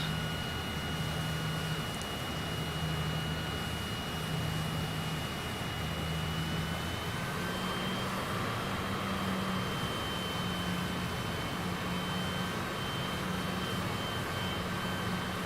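Jet aircraft engine in the Microsoft Flight Simulator game, a steady, loud broadband roar with a low droning hum and faint high whine, continuous throughout with no talking.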